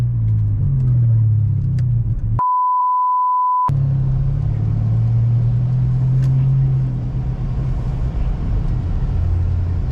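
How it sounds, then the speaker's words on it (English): A Honda EM2 widebody car drifting through snow, its engine giving a steady low rumble close by for most of the stretch, broken once by a brief electronic beep tone. "Okay, so we're going down here to do some drifting."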